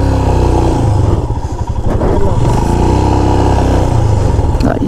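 Motorcycle ridden off-road on a rough, broken track, its engine droning loud and steady at close range throughout with rattling clatter from the bike over the bumps.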